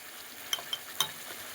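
Spices with turmeric frying in a pan, a steady close sizzle broken by three light clicks of the spoon stirring against the pan.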